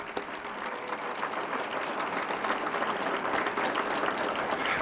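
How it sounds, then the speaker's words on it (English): A large audience at a mayor's State of the City address gives city council members a sustained round of applause, thick continuous clapping that swells slightly toward the end, heard alone without voices. "Can we give them a round of applause?"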